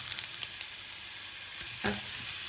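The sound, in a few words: meat searing in hot oil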